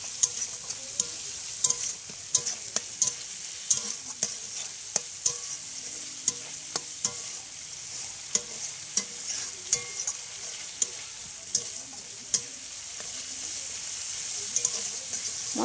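A spice paste with a little sugar added fries and is stirred in a pan, giving a continuous soft sizzle broken by regular sharp scrapes of the spatula, close and moderately loud with no talking.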